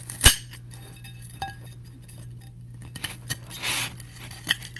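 Scissors snip through corners of paper over a plate, a few sharp separate cuts with quiet pauses between, close and clear with no talking.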